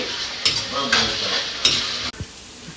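Onions, fenugreek leaves, coriander and mint fry in a pan for a keema curry, with a steady sizzle and rhythmic scraping strokes from stirring, close and fairly loud.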